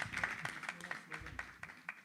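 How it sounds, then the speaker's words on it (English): Light applause from a small committee audience at a monthly devotional gathering, a thin patter of irregular claps, faint and fairly close, with a little murmured talk underneath. "Again, a big round of applause."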